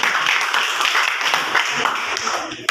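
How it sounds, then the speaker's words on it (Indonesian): Classmates in a classroom give a short burst of close, dense clapping for a student after her group presentation, with faint talk underneath. "tepuk tangan untuk Andini"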